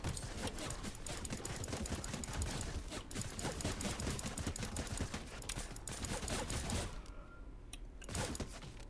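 Rapid bursts of automatic gunfire from the Fortnite video game, dense and loud throughout with rattling repeated shots, easing slightly near the end, no talking over it.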